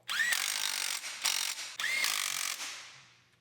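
A power tool tightens bolts on a Subaru Forester during an A/C and brake repair: two close, loud bursts of whirring, ratcheting rattle, each rising in pitch, separated by a short pause, then a brief tail-off.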